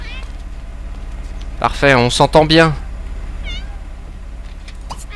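A cat in The Sims 2 video game gives a few high, wavering meows in quick succession, loud and clear over a steady background hum, with a person speaking French nearby.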